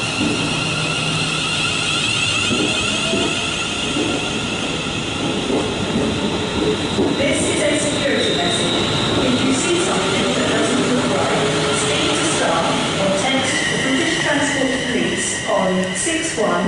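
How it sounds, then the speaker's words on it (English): A London Northwestern Railway Class 350 electric unit passes through Nuneaton station on the West Coast Main Line, a loud steady rumble with rhythmic wheel clatter and hiss throughout, while a voice talks over it. "there goes 350128. That's on the 1154 London Northwestern Railway service to Crewe from London Euston"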